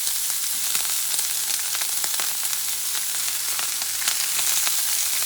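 A bison sirloin steak sears in a cast iron pan with garlic and herbs, filling the space with a loud, dense, close sizzle and crackling spits that stay steady without talk.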